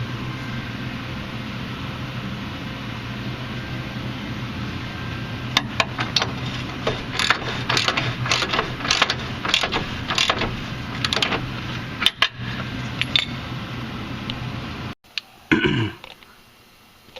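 A wrench loosens the 22 mm bolt holding the control arm to the chassis of a 2011 Scion tC, giving a run of regular, crisp ratcheting clicks over steady background noise, followed by a few louder knocks.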